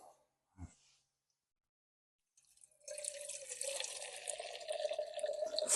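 Water streams steadily from a water-purifying bottle, starting after a faint tap and a pause, then running as a continuous close splashing flow until the end.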